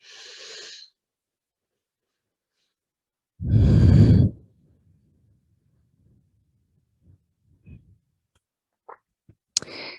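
Breath cycle during a yoga session, a long audible exhale that rises and falls, then quiet with faint small rustles and clicks nearby, no talking.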